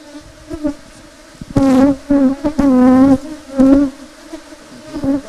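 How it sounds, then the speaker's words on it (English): Honeybees buzzing loudly over an open hive frame, close up, in several sustained, droning bursts that swell and fade. "You can see clearly that the bees are working very serious."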